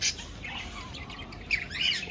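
Budgie-like birds in an aviary give sharp squawks and quick bright chirps, close and fairly faint, overlapping in short bursts without any talking.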